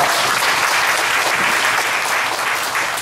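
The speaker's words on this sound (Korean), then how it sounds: "하나님께 영광의 박수 올려드립니다" Congregation applauding during a Korean church teachers' dedication service, a loud, sustained and even wash of many hands clapping together with no voices over it.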